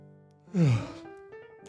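A person yawns once, a long breathy vocal sigh that rises and slides down in pitch, up close in a quiet room.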